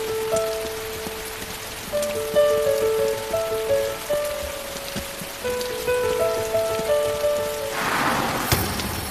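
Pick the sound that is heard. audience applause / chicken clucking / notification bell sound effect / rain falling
rain falling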